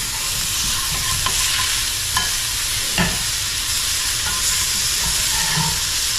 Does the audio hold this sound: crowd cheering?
no